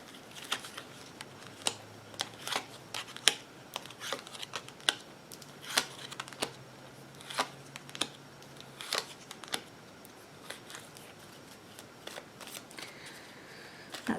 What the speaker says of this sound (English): let's do the rest of the shuffle